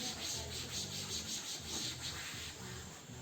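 A duster rubs writing off a classroom board in quick, even back-and-forth strokes, a soft, faint scrubbing with no voices.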